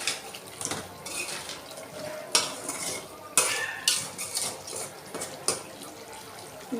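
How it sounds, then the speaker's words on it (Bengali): A spoon stirs curry in a pot, with metal clinks and scrapes in an irregular rhythm over a soft background, loud and close. "এবার আমি আরও ভালো করে একটু নেড়ে দেবো"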